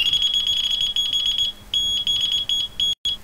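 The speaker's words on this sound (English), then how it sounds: "you're gonna get false beeps and that" Delkim fishing bite alarm giving false beeps: rapid high-pitched electronic beeping in stuttering runs with brief gaps, loud and close, set off as the line blows around in the wind.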